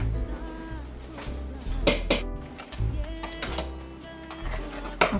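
A spoon clinks and scrapes against a bowl in a rhythmic run of small metallic knocks as eggs are stirred into chocolate chip cookie dough, close and fairly steady.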